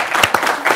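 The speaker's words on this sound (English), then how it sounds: "Clap for this." An audience bursts into short, loud clapping during a lively talk-show segment about the iFlix internet TV service, with a couple of sharper peaks in the brief burst.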